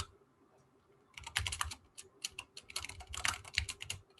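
Python code is typed on a computer keyboard: after a second of near silence, a brisk, irregular run of close, crisp key clicks continues to the end.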